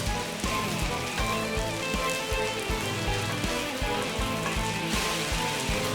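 Jute leaves fry in a pan with onion, garlic and green chili, giving a steady close crackling sizzle with a dense rain-like patter throughout and no talk.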